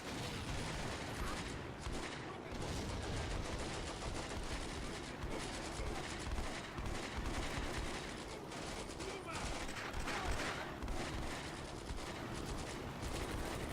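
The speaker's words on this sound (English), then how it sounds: "Oh, shooting that flamethrower squad up." Dense, continuous gunfire in the Combat Mission war game aimed at a flamethrower squad, a steady crackle of rifle and machine-gun bursts lasting throughout, heard at moderate distance with little pause.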